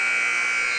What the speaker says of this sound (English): the buzzer expires on the first half of basketball